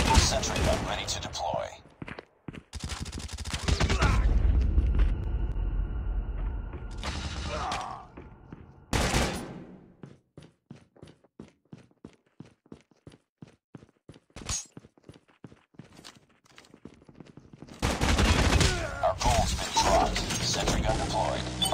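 Bursts of automatic gunfire from a Call of Duty capture-the-flag match, loud dense volleys broken by a long stretch of rapid, evenly spaced single shots, with game sounds around them.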